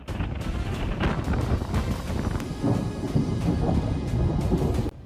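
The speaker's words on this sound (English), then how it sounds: "Violent hailstorm pounded parked cars, leaving visible damage as owners rushed in desperation to protect them." A violent hailstorm hammers parked cars with a heavy, continuous clatter and rumble, loud and close, with bursts of impact noise and wind buffeting throughout.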